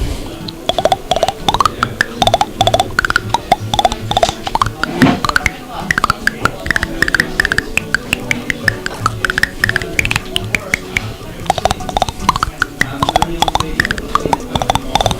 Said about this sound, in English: my other crazy skill is that I can play the William Tell Overture on my teeth